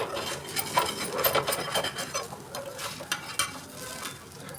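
A dosa frying in oil on a hot pan, a soft continuous sizzle with irregular crackles and light scraping, close and fairly quiet, with no talk over it.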